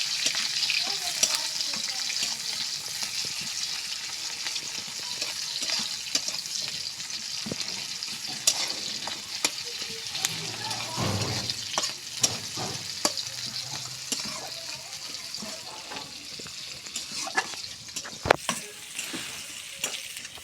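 Onions and green chilies fry in oil in a pan, a continuous close sizzle with frequent stirring clicks and a brief low thump partway through.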